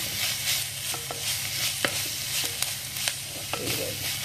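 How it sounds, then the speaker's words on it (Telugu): Turmeric stirred into green chilli mixture frying in a pan: a steady close sizzle broken by scattered sharp scrapes and clinks of the spoon, with no voices. "కొంచెం పసుపు వేసి కలుపుతున్నాను"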